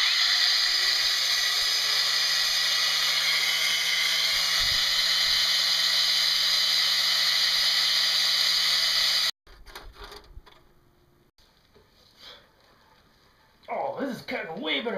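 A steady high-pitched whine of a drill biting into metal runs for several seconds, then stops, followed by clicks, handling noises and brief talk.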